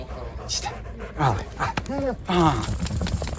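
A dog whimpers and yips up close in short, high, whining bursts while a person talks alongside it.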